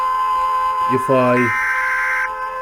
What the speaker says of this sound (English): as you can see, this alarm is on